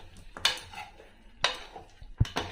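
Chicken pieces are stirred with salt and chili in a pan, with soft scraping and a few clinks of a spoon against the cookware at intervals, fairly quiet and with no talking.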